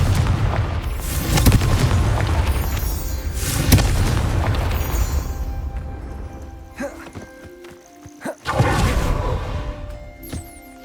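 A blasting spell fired in a video game erupts in several loud, heavy booms with crackling debris and game music, the bursts landing in clusters across the scene.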